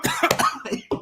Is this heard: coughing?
yes